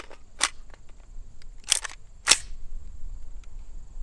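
AR-15 rifle firing PMC 55 grain rounds at a range, three sharp separate cracks heard from a distance over quiet background noise.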